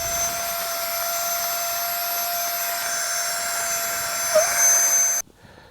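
A pump inflates a thin 2.5 cm summer sleeping pad at a wild camp, giving a steady, loud droning whine that runs unbroken for about five seconds before cutting off abruptly.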